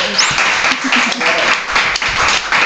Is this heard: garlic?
no